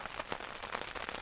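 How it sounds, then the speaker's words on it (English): Rain patters steadily on a surface, likely a tent, during a bikepacking trip on Iceland's Ring Road, a soft continuous hiss with small irregular drops and no voices. "Just like listening to the rain, and it's really, really nice."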